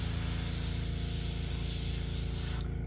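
An airbrush sprays in one continuous, close, steady hiss for a few seconds as its paint is cleared out, with no talk.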